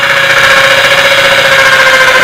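Close, loud power drill running continuously while drilling holes in a bird trap cage, a steady high motor whine with slight wavering throughout.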